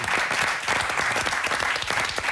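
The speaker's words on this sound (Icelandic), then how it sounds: "Eigum að klappa fyrir honum" Steady, dense applause from a studio audience fills the room throughout, loud and unbroken, at a taping of the Icelandic music quiz show Popppunktur.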